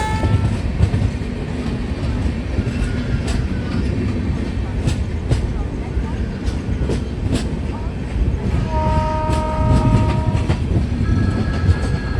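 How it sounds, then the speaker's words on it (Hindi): The Howrah–Mumbai Mail via Nagpur pulls out of Nandura railway station, its carriages rumbling and clattering steadily and close by, with brief horn-like tones near the end. "नंदुरा रेलवे स्टेशन से डिपार्ट हो रही है हावड़ा मुंबई मेल वया नागपुर"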